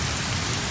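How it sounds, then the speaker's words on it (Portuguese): Heavy rain pours down steadily outside a home, a dense, unbroken hiss and patter filling the brief moment with no voices. "Chegamos em casa, embaixo de muita chuva."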